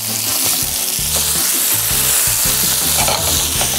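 Beetroot veggie burgers fry in a pan with a steady, close hiss and crackle of sizzling oil, bright and continuous throughout with no talking.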